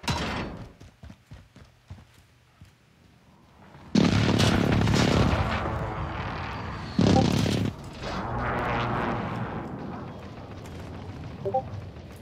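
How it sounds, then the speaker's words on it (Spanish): Airstrike blasts in a first-person shooter game: two heavy, loud explosions roar out, followed by rumbling debris and scattered gunfire, after a quieter stretch of faint shots. "Ataque aéreo"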